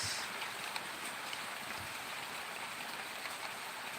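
Rain pours down outdoors in a continuous broadband hiss, fairly faint and unbroken for four seconds, with no voices over it.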